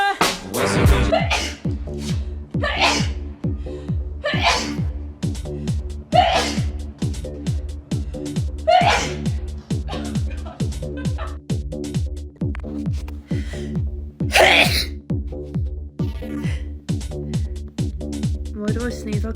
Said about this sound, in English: Why do I sneeze like a man?